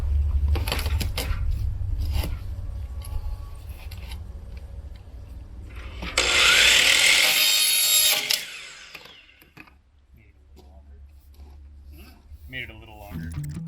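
A 4-inch PVC French drain pipe being trimmed with a cutting tool. A sustained harsh, bright rasping cut lasts about two seconds, surrounded by clattering handling noise and a low engine rumble, with a person talking at times.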